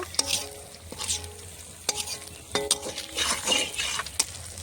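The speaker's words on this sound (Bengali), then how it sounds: "আমি ডালটা ফোড়ন দেব" Whole spices, dried red chilli and bay leaf crackle in hot oil as a tempering for mung dal, bursting into loud sizzles in short waves while a metal utensil clinks and stirs nearby.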